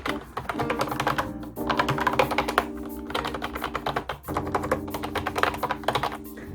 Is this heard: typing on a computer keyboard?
yes